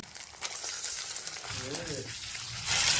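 Raw chicken pieces drop into a pan of onion and ginger-garlic paste already frying in oil, setting off a loud rising sizzle with stirring scrapes that swells toward the end.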